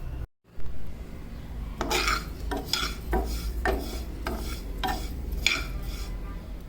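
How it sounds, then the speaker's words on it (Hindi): Cumin, carom and fennel seeds being dry roasted in a pan, stirred with a utensil. Close scraping and rasping strokes with small clinks of metal on the pan come in an irregular rhythm over a low background hum. "ये ज़ीरा, अजवाइन और सौंफ, इन तीनों को मैं हल्का सा भून के तो इसका मैं पाउडर बना के दिखाती हूँ आपको।"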